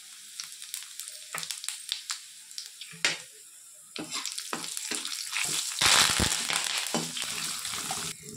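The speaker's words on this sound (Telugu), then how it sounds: "హీట్ ఎక్కినాక తాలింపు దినుసులు వేసుకోవాలి." Tempering spices dropped into hot oil in a pan where brinjals were fried, crackling and sizzling in bursts with clinks and stirring, steady and close.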